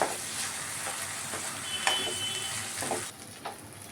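Spiced minced meat stirred in a hot frying pan, a steady close sizzle with scraping strokes of a spoon against the pan, no voices.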